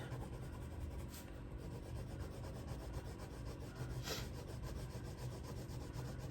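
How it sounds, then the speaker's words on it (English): A blue crayon rubs across paper in a steady, soft scratchy scribble, heard close and continuous with a couple of brief louder strokes. "my crayon is going to dance on the page and leave some blue color"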